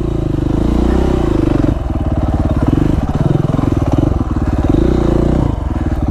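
KTM 450 SX-F dirt bike ridden along a steep trail, its engine loud and close with a steady pulsing throb and shifts in revs, plus some clatter from the ride.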